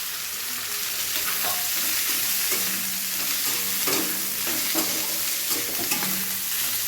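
Chopped cabbage, ginger and chili sizzle in a hot pan, a loud continuous frying hiss broken by repeated scraping stir strokes, heard up close with no talking.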